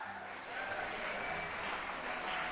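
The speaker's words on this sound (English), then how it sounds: "you can applaud for Tim." An audience at a chefs challenge event in Bloomington applauds Tim, steady clapping that swells slightly after the first half second and continues evenly, somewhat distant, with faint voices underneath.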